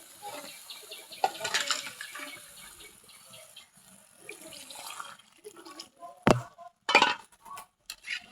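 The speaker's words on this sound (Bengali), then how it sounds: "এখন পানি দিব।" Water splashes and pours into a pot of jackfruit curry, a soft running flow broken by a sharp clatter and a short burst of splashing near the end.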